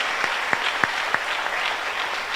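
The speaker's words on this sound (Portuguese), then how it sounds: "Aplaudam ao Senhor bem forte." A church congregation applauding, a dense wash of clapping hands with a few sharp louder claps standing out, brief and fairly near.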